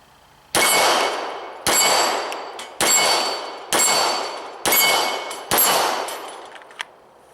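Six sharp Glock 17 Gen 4 pistol shots strike a steel target at 7 yards, each about a second apart. Every loud crack is followed by a bright metallic ring that fades before the next one.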